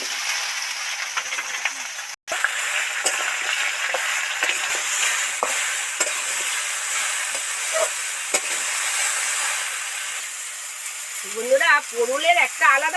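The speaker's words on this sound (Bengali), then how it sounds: "এই যে পুরুল আর আলুটা কেটে রেখেছিলাম ওর মধ্যে দিয়ে দিচ্ছি" Pointed gourd and potato sizzle steadily in hot oil with scattered clicks of stirring, and a voice speaks briefly near the end.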